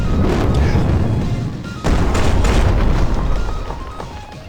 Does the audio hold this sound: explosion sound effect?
yes